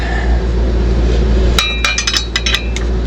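A wrench tightens a fitting on the fuel regulator of a Caterpillar C9 diesel in a 2005 American Eagle motorhome. Sharp metallic clinks and taps start halfway through, set over a loud, steady low hum.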